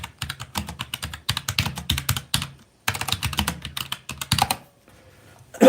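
Keystrokes on a computer keyboard as a movie title is typed in, steady clusters of close clacking taps in bursts with a short pause midway, then quieter tail at the end.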